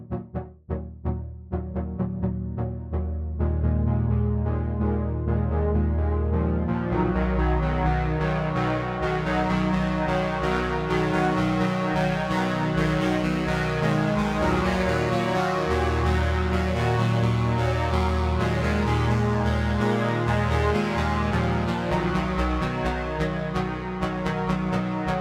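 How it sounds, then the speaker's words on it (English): A long, washed-out synth pluck with maximum sustain and extended release, swelling from sparse staccato attacks into a dense, continuous sustained chord wash that stays loud throughout, with no voices. "So this thing that once was very snappy becomes this long washed out splash"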